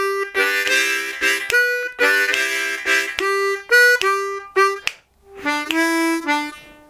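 A harmonica plays a short blues lick over the one chord, mixing chordal comping with single notes in choppy rhythmic bursts, close and clear with brief gaps.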